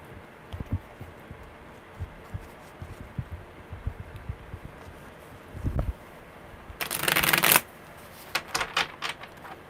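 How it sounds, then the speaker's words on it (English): Tarot cards being shuffled, soft scattered taps and riffles with a louder flurry of dense, crisp riffling near the end, close and clear with no voices. "you guys are getting really good shuffles too"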